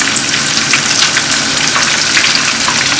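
Coconut chicken coated in butter and flour, no breadcrumbs, fries in a pan with a steady, loud, close sizzle and crackle that runs unbroken throughout, with no voices.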